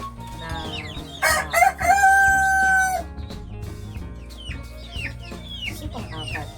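Chickens in a backyard coop, a rooster crowing loudly once near the start amid steady clucking from several hens, the flock pecking around at ground level beneath a Jamaican cherry tree.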